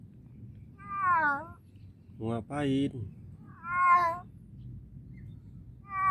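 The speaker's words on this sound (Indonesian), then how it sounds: "Ada yang tahu suara kucing seperti ini mau ngapain?" A pet cat meows several times at close range, with drawn-out, wavering cries spaced a second or so apart. A person speaks softly between the meows.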